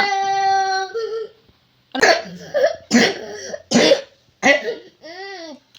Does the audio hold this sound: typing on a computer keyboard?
no